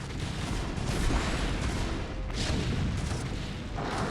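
Siege tanks firing in StarCraft: Brood War Remastered on the Fighting Spirit map, Terran against Zerg: a dense, continuous barrage of heavy booming artillery blasts rolling through the whole stretch, loud and overlapping with no gaps.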